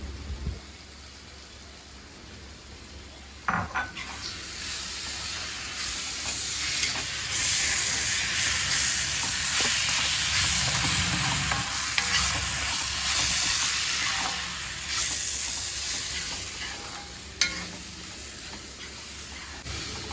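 Chilli powder and masala sautéing in a pan for homestyle chana masala, a steady close sizzle with scraping stir strokes throughout, no talk.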